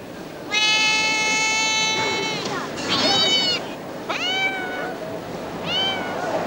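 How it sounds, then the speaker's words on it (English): An unhappy cat lets out several drawn-out, wavering meows in succession, loud and close, with short pauses between the plaintive cries. "The cat's not happy."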